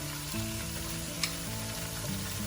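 Curry paste made with ground dried prawns sizzles hard as it hits a hot pan for a yong tau foo vegetable curry. The frying hiss is steady and close, with one brief clack partway through.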